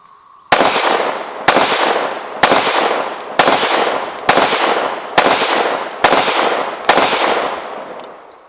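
Kimber Aegis Elite 1911 pistol in .45 ACP fired outdoors, eight loud sharp shots at a steady pace about one second apart, each with a short echoing decay and no talk.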